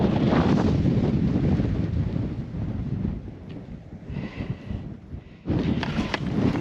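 Strong wind gusts across an outdoor microphone in winter, making a thick, loud buffeting roar that eases briefly in the middle before surging back.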